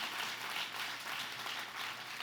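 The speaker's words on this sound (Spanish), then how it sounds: "Dale un aplauso a Jesús." A church congregation claps steadily, the applause fairly faint and distant, continuing without pause and with no voices.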